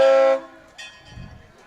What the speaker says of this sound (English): Kind of got a train coming up behind him, too, the Sycamore Express